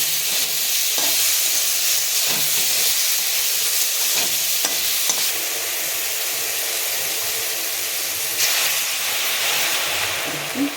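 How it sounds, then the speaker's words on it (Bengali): Apple chutney seasoned with salt and turmeric sizzles in a pan while a utensil stirs it, a constant loud hiss with scraping strokes that come and go. "আর একটু সামান্যতম হলুদ গুঁড়ো দিয়ে এটাকে নেড়ে নিই"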